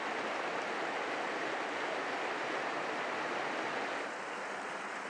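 A mountain creek in the Teton Mountains of Wyoming rushes steadily, a dense, even roar of flowing water heard close and alone, with no voices and a slight drop in level near the end.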